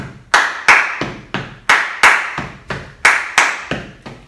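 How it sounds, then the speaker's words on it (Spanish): Hand claps in a dance routine, sharp and loud, struck in a steady repeating rhythm of pairs with nothing else around them. "Dos palmitas."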